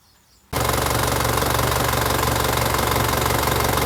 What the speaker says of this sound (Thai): อันนี้หลังจากที่เราติดเครื่องแล้ว